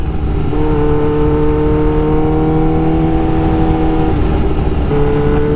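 A 2019 Kawasaki H2 motorcycle with an ECU flash, Vandemon titanium exhaust and upgraded filter revs steadily up close, a loud sustained engine drone with harmonic tones shifting slightly in pitch throughout.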